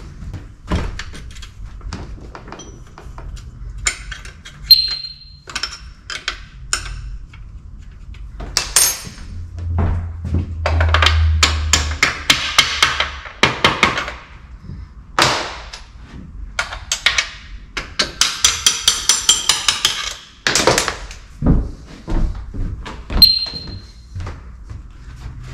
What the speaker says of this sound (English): So I'll undo the pinch bolt, see if we can punch that bolt out.